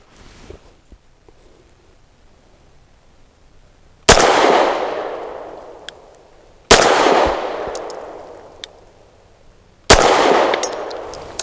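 Three loud pistol shots from a Grand Power Mk23 firing Blazer aluminum-cased 115 grain ammunition, spaced a few seconds apart, each a sharp crack with a long decaying echo, after a quiet stretch.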